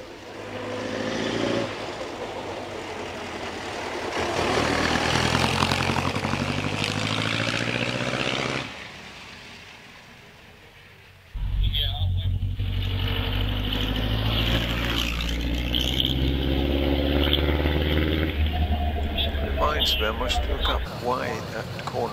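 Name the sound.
vintage sports car accelerating at Prescott hill climb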